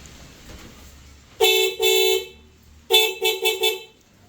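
Newly installed dual horns on an RS 457 motorcycle honk two loud, close blasts, then after a pause four more short toots in quick succession, with no talking.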